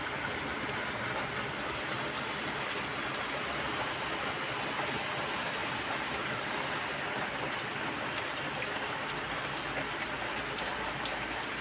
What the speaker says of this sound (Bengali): গাছগুলোর মধ্যে বৃষ্টি পড়তেছে,